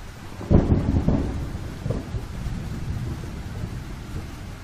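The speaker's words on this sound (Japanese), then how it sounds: "それにしてもひどい雨です。" Heavy rain falls steadily while a deep thunderclap rumbles close by, rolling and fading over several seconds, with no voices.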